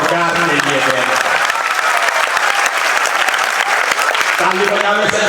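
Loud, sustained applause from a large crowd at a political rally in Banka, Bihar, continuous and close throughout, with a voice faintly audible under the clapping near the end.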